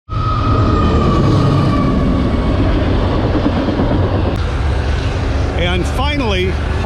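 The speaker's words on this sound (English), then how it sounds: "Cool train." A train rumbles loudly past near Niagara Falls with rhythmic clattering wheels, then a speaker briefly talks as the noise continues.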